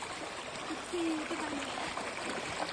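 A mountain stream in the Nepali hills babbles softly, a faint continuous wash of trickling water, with a voice heard briefly over it.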